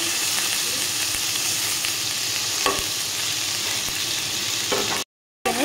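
Paneer cubes fry in hot oil in a pan for a vegetarian Bengali biryani, giving a steady close sizzle with a few stirring knocks, no talk, then a brief silence near the end.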